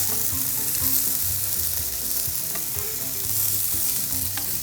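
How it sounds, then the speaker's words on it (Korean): Chili powder fries in hot oil with a dense, loud sizzle, while stirring in the pan adds soft scraping underneath, steady and close with no voices. "고춧가루 넣고 한번 쑥 젖어준 다음에 물을 바로 부어줘야 돼요"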